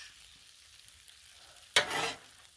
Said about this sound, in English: We'll continue browning the beef and we'll be right back.